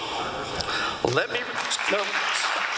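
Audience members at a school board meeting on a mask mandate applaud briefly. The clapping is a sustained, moderately loud spatter of hands, and voices speak over it.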